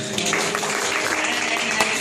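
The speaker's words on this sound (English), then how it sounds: "Please give a good clap for brother" A church audience claps for a brother in a loud, dense, continuous burst of applause filling the short moment, with no voices standing out.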